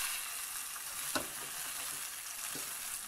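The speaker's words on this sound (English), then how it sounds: "Should sizzle a bit." Salmon fillet with oiled top slid into a hot frying pan, giving a steady broadband sizzle throughout with a couple of brief louder crackles, close and alone.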